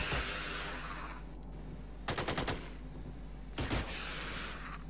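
Gunfire in the turn-based strategy game Xenonauts: two short, sharp machine-gun bursts of rapid cracks rise over a constant low background hum, each lasting about half a second.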